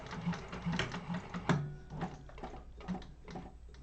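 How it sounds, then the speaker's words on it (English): A sewing machine back stitches at the start of a seam on a crossbody bag, giving irregular clattering bursts and knocks that speed up and slow down with no talk over them. "So I'm going to start here and back stitch."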